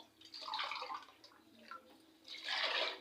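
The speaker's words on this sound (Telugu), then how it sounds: "ఒకటిన్నర కప్పు వాటర్ వేయండి" Water poured from a cup into a steel pot holding jaggery, one and a half cups in all, for a millet-flour sweet snack; two close, splashy pouring bursts separated by a brief lull, with no talk.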